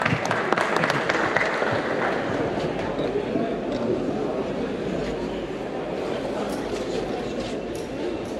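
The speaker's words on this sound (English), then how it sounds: "Yeah, another round of applause." Round of applause at a gathering of bonsai artists in Telford, a crowd clapping steadily, strongest at the start, with voices murmuring underneath as it continues.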